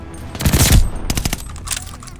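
Rapid automatic gunfire in the shooter video game Call of Duty: Vanguard, loud close bursts crackling in quick succession with a second volley after a short gap and no talking.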